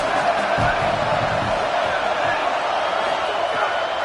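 Crowd noise fills an American football stadium on a big third down for the defense, a dense, steady roar of cheering heard from a distance, with a commentator talking over it.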